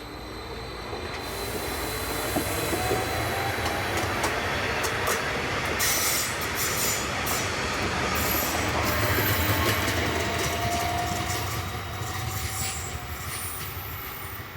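A train arrives at a station, rolling steadily past at close range, wheels clattering and squealing over the rails, with a metallic screech near the middle and no voices.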